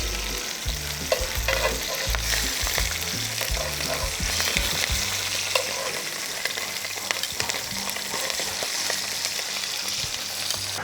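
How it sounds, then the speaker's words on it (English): Bison bratwursts fry in a hot pan with a steady, close sizzle and crackle, punctuated by light scraping and stirring sounds throughout. "The heat we got going here, it shouldn't take too long to fry these up"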